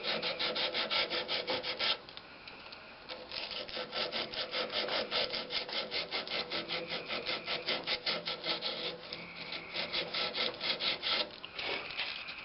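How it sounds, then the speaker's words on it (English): Hand sanding of a pierced maple wood tea light vase on a lathe project, a rapid, even back-and-forth rasping stroke repeated steadily, close and fairly loud, with a short pause early on. "Sand each one of them."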